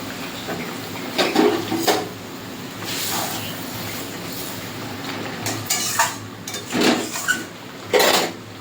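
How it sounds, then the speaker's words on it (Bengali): Fried pomfret pieces go into a boiling mustard-paste gravy in a pan, with several close, loud clanks and scrapes of a utensil against the pan and soft sizzling and bubbling between them. "ঝোল ফুটে গেছে, ভেজে রাখা মাছগুলো দিয়ে দেবো।"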